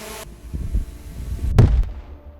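An explosion from an attack on Russian soldiers in the war in Ukraine, heard as a sharp, loud blast that rumbles briefly. Lower thuds and rumble come before it.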